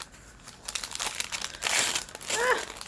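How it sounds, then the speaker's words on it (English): A small purple paper bag is crumpled and crushed by hand close up, giving a run of crisp crinkling bursts that grow louder toward the end. "As I make a complete mess of the paper bag."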